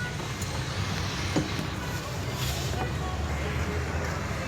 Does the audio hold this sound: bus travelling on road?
yes